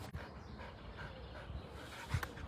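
A dog pants close by in quiet surroundings, a faint series of soft, rhythmic breathy puffs with a slightly stronger burst near the end.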